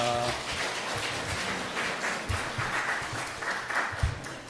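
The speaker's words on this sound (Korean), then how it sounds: "우리 옆에 있는 분들 박수로 환영하겠습니다." A congregation in a Korean church in Darmstadt claps to welcome those beside them during an Easter-season Sunday service. The applause is steady and fairly soft, with a brief voice at the start.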